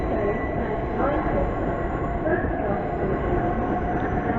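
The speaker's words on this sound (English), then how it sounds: "Here is the 1220 Great Western Railway service from London Paddington to Didcot Parkway." A Great Western Railway London Paddington to Didcot Parkway service at Reading station: a steady, loud rumble of a train running through, with continuous wheel and engine noise and no clear breaks.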